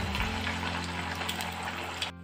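Garelu batter frying in hot oil on a stove: a steady, close sizzling crackle that runs throughout, then stops abruptly near the end.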